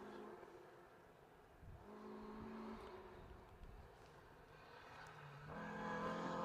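A BMW Compact rally car drives through a rally stage, its engine whirring and changing pitch as it accelerates, heard from a distance and fairly faint, rising toward the end.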